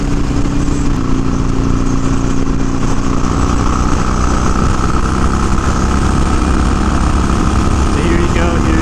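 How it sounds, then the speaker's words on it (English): A Harley-Davidson Sportster 1200 roars loud and steady while riding at high revs, a dense continuous exhaust rumble with strong wind buffeting, sustained without break for the whole stretch. "Here's maxing out the Sporty here a little bit. You can hear the exhaust and stuff. It's pretty loud."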